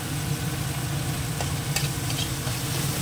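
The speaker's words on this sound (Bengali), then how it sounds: "একটু কষিয়ে নেবো মশলাটাকে" Spice paste of cumin, turmeric, salt, chili powder and ground green chili sautés in a pan with a splash of water, a loud, dense sizzle with a low rumbling undertone, close and continuous without speech.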